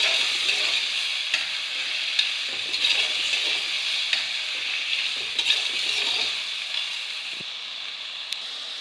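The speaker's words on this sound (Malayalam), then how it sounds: "പച്ചമുളക് സവോള ഉള്ളിയൊക്കെ കുറേ വഴന്ന് വന്നിട്ടുണ്ട്." Sliced onions and green chillies sauté in a pan for a homestyle Kerala chicken curry, with a steady bright sizzle and occasional soft stirring scrapes and clicks.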